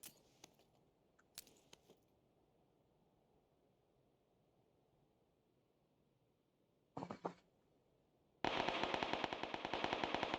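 Scattered single gunshots crack early on in PUBG, then a short burst and a sustained, loud rapid-fire stream of automatic gunfire at the end.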